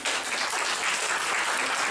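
Audience applause at a charity event for children and widows orphaned by Covid, steady dense clapping filling the whole moment at an even level with no voices.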